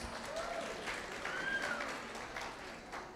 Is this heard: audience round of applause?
yes